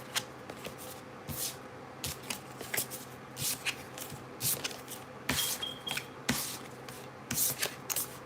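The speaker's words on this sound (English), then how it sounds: "I love how I can shuffle the cards and no cards will come out." A deck of tarot cards being shuffled by hand, with repeated riffling bursts and soft card slaps in uneven rhythm, close up with no talking.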